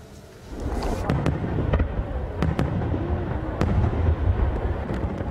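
Fireworks burst at a summer fireworks event: a dense, continuous crackling roar broken by several sharp, loud pops, heard from a moderate distance.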